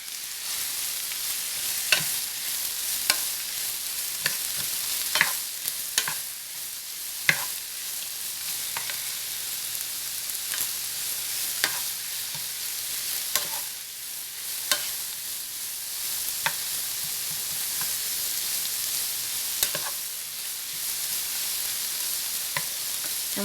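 Sliced sweet peppers and mushrooms sizzling steadily in a pan, a constant bright hiss broken by sharp clicks and taps of stirring, with no talking.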